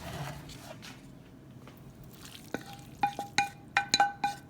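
A spoon stirs ground beef mixture into a pot of baked beans, making wet squelching scrapes and clinks against the pot that grow in the second half over a faint background hiss, close, with no talking.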